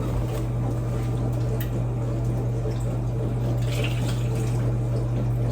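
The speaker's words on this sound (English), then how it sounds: "now we need 1 cup of water" A cup of water pours steadily into a pan for homemade chocolate syrup, a continuous close liquid rush with a low hum underneath and no talking.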